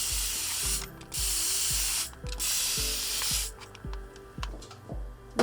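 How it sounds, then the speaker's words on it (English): Water sprayed onto drinks for a product photo, bursts of hissing mist from a trigger sprayer, four or five pumps in quick succession with mechanical clicks between them, close by and without talk. "we will spray water on the drinks to give the illusion that the drinks are in a cool environment"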